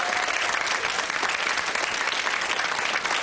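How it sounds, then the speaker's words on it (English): A television game show studio audience breaks into loud, dense applause that fills the whole stretch without pause, close and full, with no talking over it. "Another round of applause, thank you."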